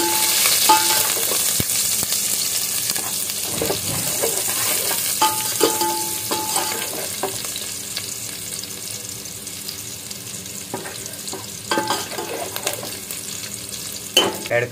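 Onion being fried golden brown with garlic in a pan for a Malvani-style red amaranth curry, heard as a steady close sizzle with intermittent spatula scrapes and stirring clatter throughout and no voices.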